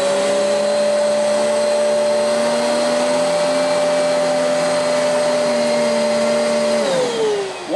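A Litter Getter vacuum cleaner runs loud and steady with a constant motor whine, alone with no voices, then its pitch drops near the end as it winds down.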